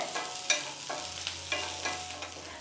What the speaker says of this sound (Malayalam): ഫ്ലെയിമിനെ മീഡിയത്തിൽ വെച്ചിട്ട് നന്നായിട്ട് തന്നെ നമ്മുടെ ഉള്ളി ഒന്ന് വഴറ്റിയെടുക്കാവുന്നതാണ്